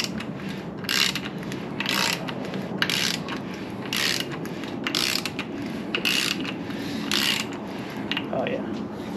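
Ratcheting, gear-like clicks recur in a steady rhythm as the crankshaft of a 6.0 LS engine is turned by hand with the timing set and oil pump and cam installed, close and moderately loud over a low background hum.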